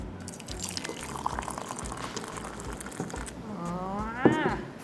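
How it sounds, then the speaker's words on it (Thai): Soda water poured into a glass of herbal craft cola, a steady liquid pour and fizz running throughout with a rising gurgle near the end, close and moderately loud. "แล้วเดี๋ยวเราใส่โซดาตามเข้าไปนะคะ"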